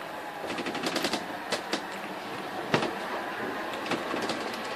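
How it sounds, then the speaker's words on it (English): A generator on a sailing boat's propeller spins while the boat sails, making a steady whirring drone with irregular rattling clicks and knocks throughout. "put a generator on their propeller, so that when they are physically sailing, they're at least making electricity"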